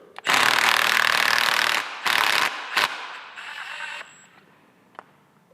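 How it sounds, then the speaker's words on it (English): Metallic ratcheting and tool noise from unscrewing the top cap of an Ohlins FKS 508 fork cartridge for a Harley-Davidson FXLRS/T, in a long loud burst and then shorter bursts, with a faint tick near the end. "So there is no spring pressure on the top cap, so we can just unscrew it."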